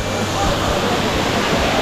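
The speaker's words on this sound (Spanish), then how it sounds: "Miren la catarata." Rushing water from a waterfall pouring into a natural pool high in the mountains, a dense continuous broadband roar with no speech.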